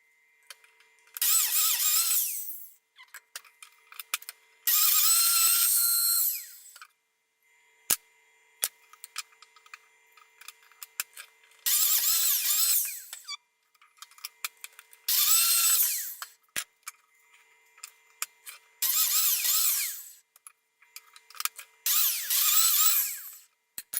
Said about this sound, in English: line it up with the jig on the biscuit cutter and just cut away